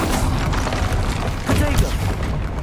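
An Incendio fire spell cast in Hogwarts Legacy bursts with a loud whooshing boom and rumbling flame across the whole moment, amid dense spell-battle noise.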